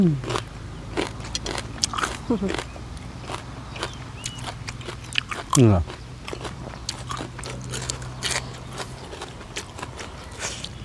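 Someone eats a spicy Thai oyster salad in thick sauce with fresh bird's eye chilies, biting and chewing in irregular crunchy bursts, with talking in the background.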